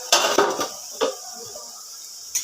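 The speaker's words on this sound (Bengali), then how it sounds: "5 মিনিট পর আমি ঢাকনাটাকে সরিয়ে দিলাম" A lid comes off a pan of cooking bitter gourd, making a couple of close metallic clanks followed by a quieter knock and a faint clink later.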